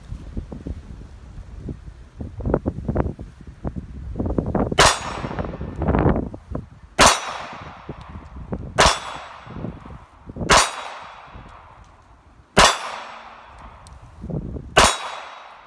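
A Taurus Spectrum 380 pocket pistol is test fired outdoors: six sharp, loud shots at uneven intervals of about two seconds, each ringing briefly, over breezy wind noise with some muffled handling sounds before the first shot.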